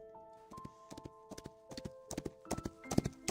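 Horses' hooves clip-clop through a forest in the Love and Deepspace video game, the uneven clopping of several animals growing denser and louder toward the end over a soft musical backdrop.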